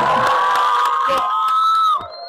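A political rally crowd in Kenya cheering and whooping, a loud sustained roar of voices with a rising shout near the end, close and dense.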